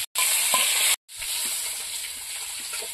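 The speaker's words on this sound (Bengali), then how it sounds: "বাকি মাছগুলো ভেজে দেবো" River fish frying in a pan of hot oil, a loud close sizzle cut by two brief silent gaps near the start, then a continuous crackling hiss with small pops and no talking.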